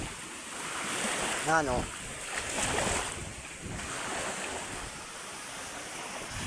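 Large Pacific Ocean waves churn and surge during Typhoon Opong, a steady windy roar of surf with gusts buffeting the microphone and a voice calling out briefly.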